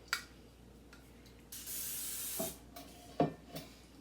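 Short bursts of spray hiss as a sweet treat is misted before a dusting of cocoa powder, with one longer spray in the middle, soft and close between quiet handling sounds.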